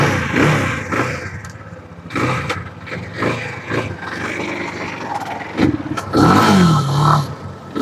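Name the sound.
250cc motorcycle engine revving, showing acceleration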